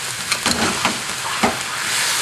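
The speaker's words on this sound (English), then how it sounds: "I'm going to toss this eel for about 3 minutes, get it to cook through in the sambal" Eel tossed in sambal in a hot pan sizzles steadily, with several sharp scraping and stirring bursts as it is turned, loud and close with no talking.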